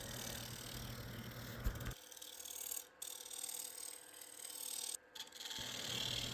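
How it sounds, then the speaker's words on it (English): A 1-inch flat scraper shaping the bottom of a spalted maple bowl on a lathe, producing a continuous loud rasping scrape with brief pauses and shifts in pressure as the tool is repositioned. "To refine the shape of the bottom of the bowl, I'm using my 1-inch flat scraper"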